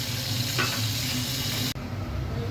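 Potatoes fry and get turned in a pan while a chicken dish with green chillies cooks, giving a steady, close, broadband sizzle that cuts off abruptly near the end before a quieter hiss continues.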